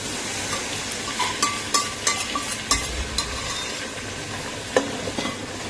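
Onion and tomato gravy is stirred into Rajkot-style chapadi undhiyu frying in a pan: a steady sizzle runs throughout, broken by repeated scraping knocks of the spoon, close and moderately loud.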